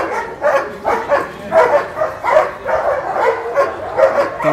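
A German Shepherd barks loudly and close by during protection work at a breed show in Ouro Branco, Minas Gerais, letting out a steady run of sharp barks about every half second.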